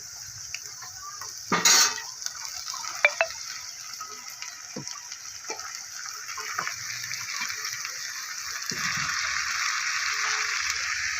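Radish greens tipped into a hot pan with lightly browned onions and stirred: a brief loud rustling thump, then clinking spoon strokes and a steady hissing sizzle that grows louder toward the end, with no talk.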